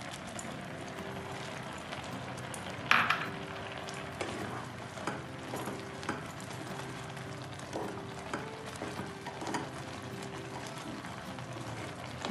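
Chopped cashews and almonds fry in a pan for gajar halwa, a continuous soft sizzle with occasional stirring scrapes and one sharper clatter near the start.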